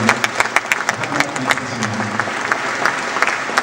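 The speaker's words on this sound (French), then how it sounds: "Vous pouvez les applaudir à la hauteur des résultats qu'ils ont eu cette saison" Loud, close applause from an audience at a cycling team presentation for its sports directors, dense clapping with a murmur of voices beneath.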